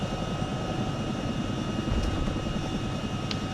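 A military helicopter in ARMA, just landed on a ship's deck, its turbine whine and rotor roar holding steady and loud throughout as the engine spools down, with no voices over it.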